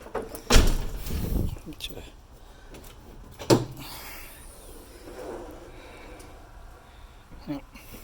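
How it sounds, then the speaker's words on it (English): A 1982 DeLorean's door opens by itself with a sharp mechanical clunk followed by a softer movement sound and another thud, while a voice talks nearby. "you can see the doors opening by itself here"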